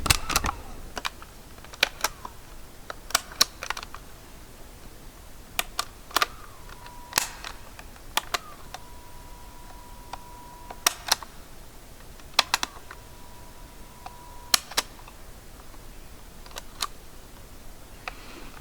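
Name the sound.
cassette player buttons being pressed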